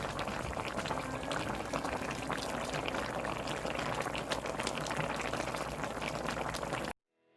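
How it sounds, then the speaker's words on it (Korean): Braised beef short ribs (galbi-jjim) with green onion bubbling steadily in a pot, a continuous close simmering burble that runs alone for about seven seconds and then cuts off. "이 상태로 대파가 익을 때까지 끓여주시면 완성입니다"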